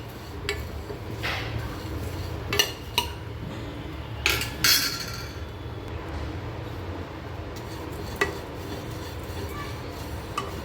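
Poha dry-roasts in an empty pan with no oil while a metal utensil stirs it, giving intermittent scrapes and clinks over a steady sizzling hiss.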